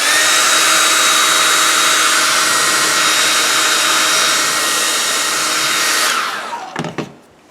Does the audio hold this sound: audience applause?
no